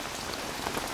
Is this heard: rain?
yes